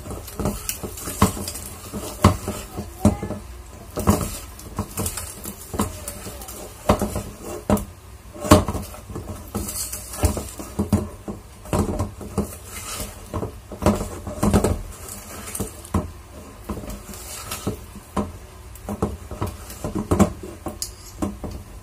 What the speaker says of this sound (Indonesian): Aduk sampai rata ya.